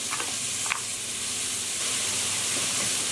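Onions and carrots sizzle in hot vegetable oil in a pot, a steady dense frying hiss with a faint clink of a utensil near the start, close and continuous with no talk.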